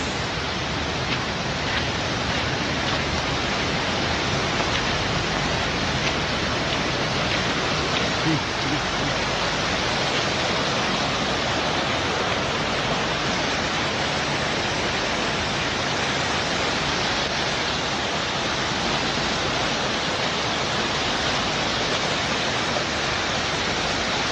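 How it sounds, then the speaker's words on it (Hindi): Floodwater from very heavy rain roars down from above beside a closed road near a temple in Premnagar, a dense, unbroken rushing wash that fills the whole scene. "बहुत ही भारी बारिश के कारण बहुत ही पानी बह रहा है ऊपर से"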